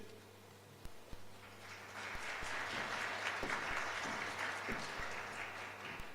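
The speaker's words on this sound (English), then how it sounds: "Another round of applause, please, for teaching basic education." Applause from the audience at a BRICS senior officials' education meeting swells up after a few scattered claps and continues steadily, faint and somewhat distant in the hall.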